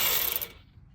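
A 7mm ratchet works loose the rear brake caliper pins on a 2018 Ford Ecosport, giving a brief, close burst of dense clicking that quickly fades to quiet.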